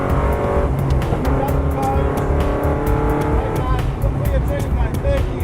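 A V8 supercar race car driven fast on a track, its engine roaring loud and steady from close range with rising revving tones throughout.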